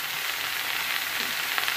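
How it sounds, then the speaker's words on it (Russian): Zucchini stew frying in a pan, a steady broadband sizzle with faint crackles throughout, close and alone. "Это один кабачок, представляете, на все полностью на сковородку. Ну, сейчас, наверное, жарится."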